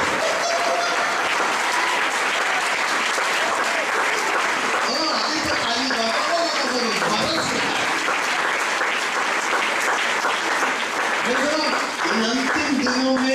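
Continuous loud applause from a large congregation at a church gathering, steady and dense for the whole stretch, with voices and crowd noise mixed in beneath the clapping.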